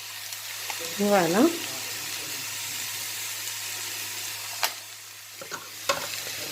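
Onions with tomato sizzle in a frying pan, a steady hiss broken by a few sharp scrapes of stirring, while someone speaks briefly over the cooking.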